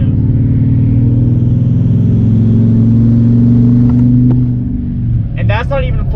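2016 Chevy Silverado 2500 with a 6.6L LML Duramax diesel revving, a loud deep steady engine drone that rises and then drops away near the end, with a voice briefly at the close.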